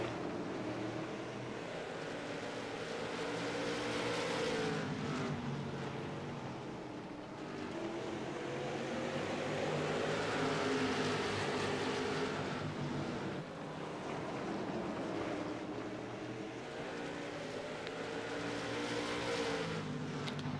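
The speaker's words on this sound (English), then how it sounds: "She is to the inside of the 420 car, trying to complete the pass for second place." Stock cars race around a short track in a sim racing game, their engines a continuous droning roar that swells and fades as the pack passes.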